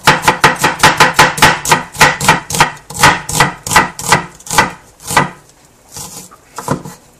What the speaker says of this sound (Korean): 양파는 채를 썰어서 찬물에 담가주셔야 매운맛이 빠지고 좋습니다